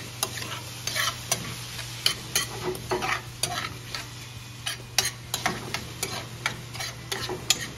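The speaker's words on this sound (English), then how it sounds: "What we want to do is kind of caramelize that brown sugar." Brown sugar and fruit sizzle in a pan for an empanada filling, a soft steady fry with frequent sharp scraping stir strokes and clicks of a utensil against the pan, fairly quiet, with a low hum underneath and no talking.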